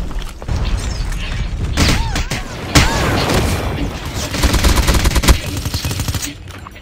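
Gunfire in an online video game, with rapid bursts of automatic shots and scattered thuds in a dense, loud barrage that keeps going throughout, while a faint voice speaks underneath.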